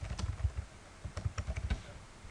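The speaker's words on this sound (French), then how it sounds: "Si on tape Antoine Griezmann" Someone types on a computer keyboard in quick, uneven runs of soft close key taps, with a brief pause in the middle.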